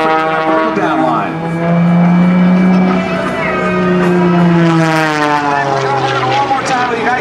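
An Extra 300 aerobatic airplane flies vertical rolls at an airshow, its propeller engine droning and sweeping in pitch as it climbs and turns, loud and fairly close, with an announcer's voice over it.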